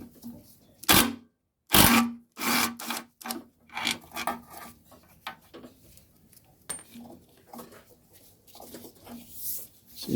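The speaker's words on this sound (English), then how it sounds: "So using the M13, need to socket to remove this part here." Metal tool work on an old discarded lawnmower, a 13 mm socket wrench loosening and removing a part: close, irregular scraping, ratcheting and clanking bursts separated by short pauses, with no talk.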